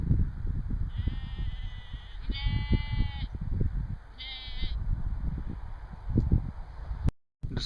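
Sheep, one of them black, bleat in a Scottish field: three wavering calls at moderate distance over steady rustling outdoor background noise.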